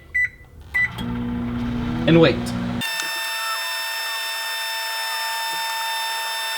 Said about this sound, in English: Once we get over to the microwave, in goes the gummy mix.